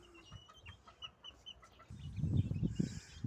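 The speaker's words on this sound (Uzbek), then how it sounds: "Mana yaxshi tovuqlar ekan." Hens of mixed breeds, including Japanese birds, cluck in short, repeated calls close by, then a louder, denser burst of clucking and scuffling fills the second half.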